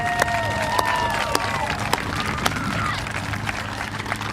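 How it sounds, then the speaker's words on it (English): Scattered clapping in a room at a school groundbreaking ceremony, with a low murmur of voices, individual claps standing out sharply every half second or so. "At this time, yes, actually we should clap"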